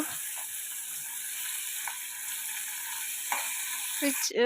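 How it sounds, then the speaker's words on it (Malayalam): Tomato being sautéed in a little oil for a Kerala fish curry gives a steady, even sizzle with a few soft spoon scrapes against the pan, alone and at close range. "ആ തക്കാളി നന്നായിട്ട് നമ്മൾ വഴറ്റിയെടുക്കുക"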